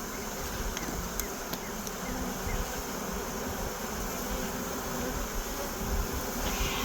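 Honey bees buzz steadily in an open hive during queen rearing and splitting into nucs, with workers fanning; a dense, continuous close-up drone holds at even loudness throughout, with no talking.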